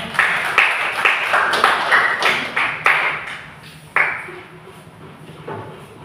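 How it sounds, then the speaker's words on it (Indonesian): Applause for a group in a classroom session: scattered, uneven claps from a small group ring out near and fairly loud, thinning to a few isolated claps before fading. "Berikan aplaus untuk kelompok 3"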